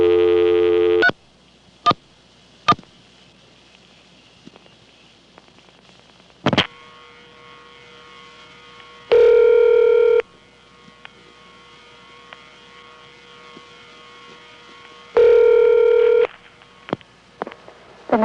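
Vacant code dialed through a 1976 register sender in Manassas, Virginia, toward a vacant level trunk: sharp clicks and brief tone bursts over a quiet line, then two loud steady multi-tone blasts about six seconds apart, with scattered clicks.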